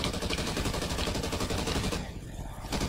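Dense, rapid automatic gunfire from Call of Duty Ghosts Extinction rattles loudly and continuously, with a brief dip in intensity before the shooting resumes.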